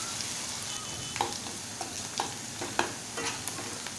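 Onions sauté in a pan for prawn masala, giving a low steady sizzle with repeated clicks and scrapes from stirring, quiet and close, no voices.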